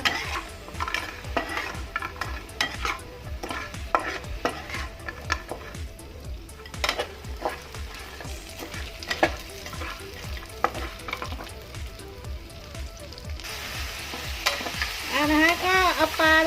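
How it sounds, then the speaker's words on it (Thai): Fried snakehead fish tossed with Chinese celery in a pan, loud sizzling under repeated scrapes and clanks of a spatula against the metal, steady stirring rhythm close up, no talking. "ก็จะเอาปลา ลงไปเลย ไปคลุกเคล้านะคะ"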